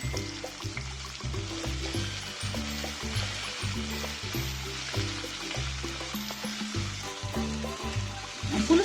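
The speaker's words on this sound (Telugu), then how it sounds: "కొంచెం కరివేపాకు ఈ విధంగా తుంచి వేసుకోండి. ఫ్లేవరు ఈ ఉల్లిపాయకి పడుతుంది" Curry leaves torn into chopped onions frying in hot oil make a steady hiss beneath a rhythmic musical backing that plays throughout.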